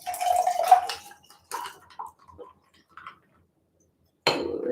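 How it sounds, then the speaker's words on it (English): Pink drink mixture poured over ice in a glass, a liquid splash and trickle with clinks of ice, then a pause with faint drips before another short burst of pouring. "pour in our mixture."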